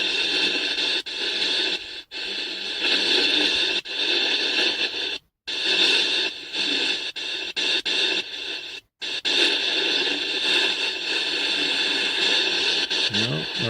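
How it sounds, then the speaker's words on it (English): A spirit box app scanning radio stations with added EVP white noise gives a loud, constant hiss and crackling static, chopped by short abrupt dropouts to silence, with sweep-like jumps and no clear voices. "It also allows you to add what they call EVP noise, which I'm assuming is probably white noise"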